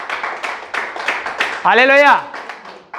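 A church congregation claps along during a Hindi sermon on patience, with scattered, uneven hand claps under a preacher's voice, which rises into a drawn-out, sung call near the middle.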